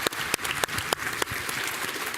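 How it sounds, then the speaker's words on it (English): An audience at a Kingdom Hearts deep-dive panel applauding a performer, a dense, steady burst of many hands clapping with a few sharper individual claps standing out, fairly close. "So please give Renee a round of applause."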